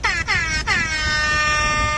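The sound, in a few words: air horn sound from Rap Air Horn app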